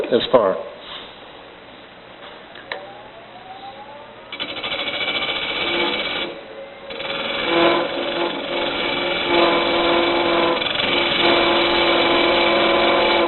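A woodturning tool with a rotated cutter cuts weakly into a travel mug blank spinning on a lathe, giving a continuous rough scraping whir that begins a few seconds in and grows steadily louder, with a voice talking over it.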